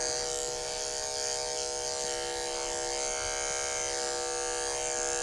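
Electric dog grooming clippers fitted with a snap-on comb buzz steadily and close up, a continuous high whine with no voices, used while trimming an anxious dog's legs.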